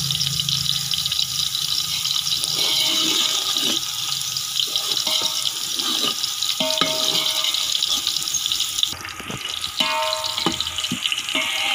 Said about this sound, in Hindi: अब कढ़ाई में या बर्तन जिसमें आपने चावल तैयार करने हैं उसमें घी डालें और उसमें प्याज डाल दें।